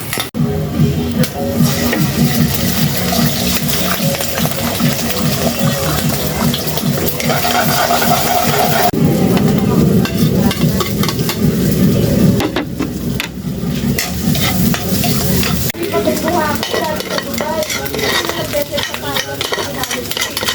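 Chow fan fried rice stir-fried in a home kitchen pan: repeated scraping and tossing with sizzling, clattering cookware and a splash of running water along the way, with some talk in the background.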